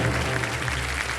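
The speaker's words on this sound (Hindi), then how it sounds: "जोरदार तालियां बजे हमारे प्रदेश के लिए।" A studio audience on the KBC quiz show breaks into brief, dense applause, a steady wash of clapping with no talk over it.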